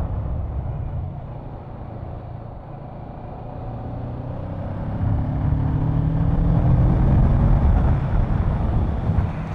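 A 2020 Kawasaki Ninja 650 motorcycle rides round a bend, its engine a low steady drone that rises in pitch as it picks up speed, with heavy wind rush over the microphone and no talk.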